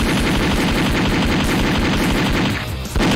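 Rapid automatic gunfire from an enemy in the horror-themed rhythm game Friday Night Funkin.EXE, a loud, dense stream of shots that briefly drops out near the end before resuming.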